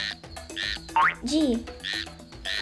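A frog croaks repeatedly in short, raspy bursts, with a brief rising chirp between them; fairly close and clear, no talking.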